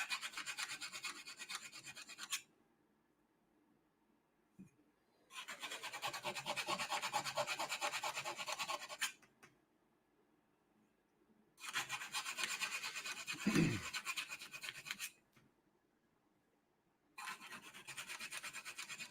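A lightsaber hilt is hand-sanded with 3000 grit sandpaper in three long, steady rasping bursts, each a few seconds long and separated by silent pauses, close and fairly quiet, with no speech.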